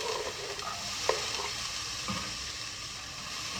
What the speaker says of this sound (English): I'm sauteing onions